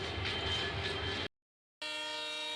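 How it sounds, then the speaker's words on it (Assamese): A train, apparently with engine trouble, rumbles with mechanical noise, drops into a brief silence, then returns as a steady tonal hum of the engine and wheels. "ট্ৰেইনখন ষ্টাৰ্ট হৈছে যেতিয়া ঘৰত যাই পালেই হ'ল মোটামুটি।"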